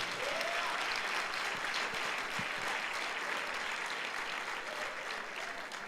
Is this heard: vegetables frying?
no